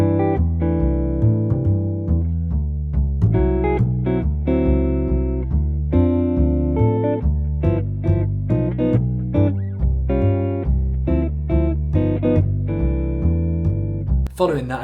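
Jazz guitar comping with chord voicings on the top four strings, short rhythmic stabs alternating with held chords in a steady swing pulse, near and clear with nobody talking.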